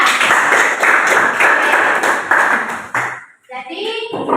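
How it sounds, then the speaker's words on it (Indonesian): A grade 8 classroom of students breaks into brisk, rhythmic applause for a classmate. The clapping stops and children's voices follow. "Beri tepuk tangan untuk Maria."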